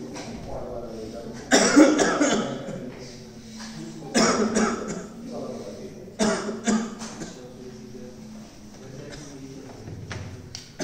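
A person coughs in short harsh bursts, a few clustered fits spread over about ten seconds, fairly close and loud, with a month-long cough described in a doctor's consultation setting.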